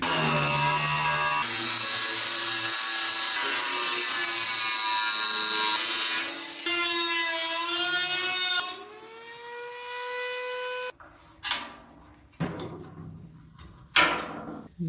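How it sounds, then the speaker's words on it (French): A thin abrasive cutting disc slices through the sheet-metal body panel of a Renault R2087 4x4, giving a loud, sustained whine that shifts pitch as it bites, then winds down into short scraping bursts near the end. "Maintenant, j'utilise un disque à tronçonner relativement fin pour couper la tôle."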